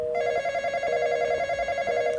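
A mobile phone ringing in a video game, a loud close electronic ring with a steady warbling pulse that keeps going without a break.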